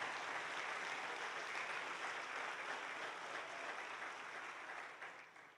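Steady applause from a church congregation, a dense continuous patter of clapping at moderate distance that holds evenly and then begins to fade at the end.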